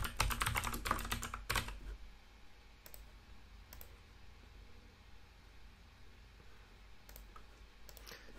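Someone types a password on a computer keyboard. A quick burst of close keystrokes is followed by a few isolated clicks against quiet background hiss.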